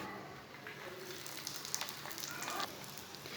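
Bread roti sizzles and crackles steadily in a spoonful of oil on a hot tawa, a soft continuous fry with small popping bursts, close and fairly quiet, with no talking.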